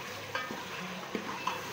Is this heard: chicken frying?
yes